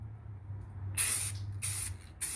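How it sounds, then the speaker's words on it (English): Brake calipers are being spray painted red in light coats, with three short, close aerosol bursts hissing loudly one after another over a low background hum. "Just put a couple light coats on there."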